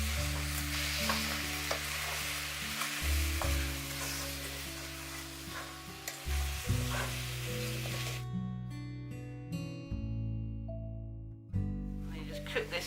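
Rhubarb with cornflour paste cooking in a pan while stirred, a soft sizzle with intermittent stirring scrapes, close up, with background music throughout.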